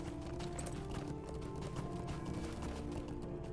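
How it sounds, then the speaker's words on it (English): An in-game horse in LOTRO trots steadily with a rapid, even clip-clop of hooves under a dense layer of game ambience and music. "even when the in-game horse stutters, there's something weird about that."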